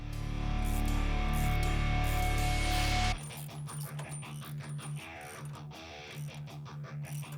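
A ratchet tightens the rear sway bar mounts on a Jeep Wrangler Rubicon. A loud mechanical whir runs first, then a steady rhythmic series of close ratcheting clicks follows.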